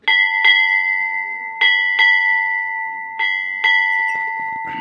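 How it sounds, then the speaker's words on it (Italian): A ship's bell of the kind fitted on all vessels, shown at a maritime museum, rings in pairs of sharp metallic strikes with sustained bright tones lingering between them, close and loud. "questa è la campana che è su tutte le navi, ancora quelle modernissime"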